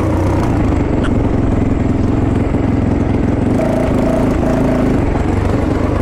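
A Fantic 450 Rally motorcycle engine runs steadily and close by, with a thin, tinny, rattling tone and a constant mid-pitched drone that holds loud throughout.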